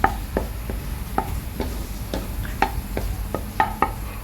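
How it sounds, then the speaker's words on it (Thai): Egg stirred gently with a spatula in a hot pan for shrimp fried rice, a quiet bed of sizzling broken by about a dozen crisp metal scrapes and taps at an irregular, unhurried pace, close and alone. "ไข่เริ่มจะสุกแล้วเราก็จะคนเบาๆ นะคะ ตะหลิวคนเบาๆค่ะ"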